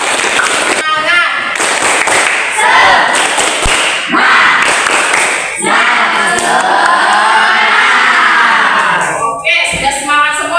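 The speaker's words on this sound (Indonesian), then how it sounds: "Tepuk tangan dulu" Students in an Indonesian classroom lesson clap in sharp, loud bursts mixed with energetic shouted voices, the claps landing as distinct hits among excited group chanting.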